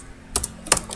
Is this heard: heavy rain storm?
no